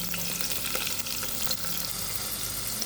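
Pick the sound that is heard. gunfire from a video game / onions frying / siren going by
onions frying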